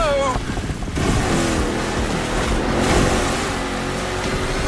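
Video game vehicle driving down a river, with loud continuous rushing and splashing water and engine rumble over the whole stretch, steady and close.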